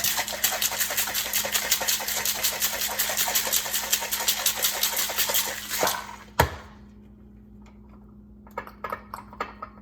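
A margarita shaken hard with ice in a cocktail shaker: about six seconds of steady, loud rapid rattling, then an abrupt stop with a single knock, followed by near-quiet with a few small clinks.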